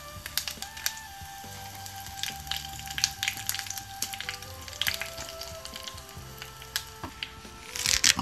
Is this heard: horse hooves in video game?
no